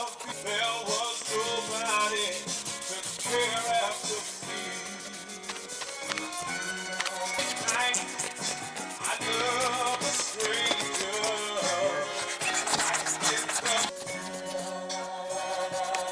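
Hand scuffing and sanding of a vehicle frame ahead of satin black paint, steady repetitive rubbing and scraping strokes at close range, continuous throughout with quick scratchy taps, no talk.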